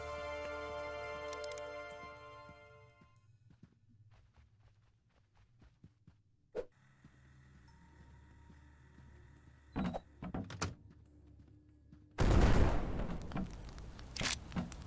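Rocket launcher fire in the video game Kill It With Fire, heard as a few sharp isolated blasts followed by a long, loud roaring burst of explosion near the end, against a quiet ambient game background.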